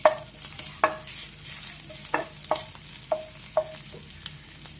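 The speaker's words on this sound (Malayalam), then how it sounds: "ഇനി നമുക്ക് ജിഞ്ചർ ഇട്ടെടുക്കാം നമുക്ക് നന്നായിട്ട് മിക്സ് ആക്കാം" Ginger fries in oil in a pan while a utensil stirs it, with sharp metallic taps and scrapes every half second or so over a soft, continuous sizzle.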